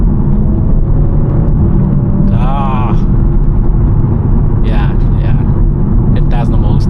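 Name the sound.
BMW M140i engine accelerating through gear shifts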